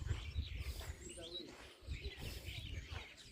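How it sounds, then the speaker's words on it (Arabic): Birds chirp and coo outdoors on a summit overlooking a lake, with soft twittering calls layered over a low ambient rumble and faint background voices. "الجميل أن الطيور موجودة، احنا نلاحظوا في الطيور"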